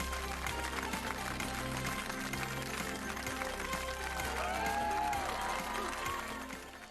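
Applause from a studio audience at the close of a 1998 Countdown game show episode, a steady dense wash of clapping with music or voices faintly mixed underneath, easing off near the end.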